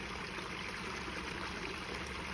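A backyard pond waterfall trickles and splashes in a steady, even wash of water noise, close by and unbroken, with no voices.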